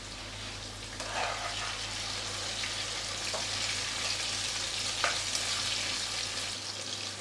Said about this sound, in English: So we're going to need to fry this firstly.